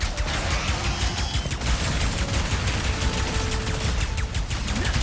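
Rapid bursts from a burst pistol in the video game Ratchet and Clank Rift Apart, dense repeated shot cracks over a loud, busy layer of explosions and game effects that continues without pause.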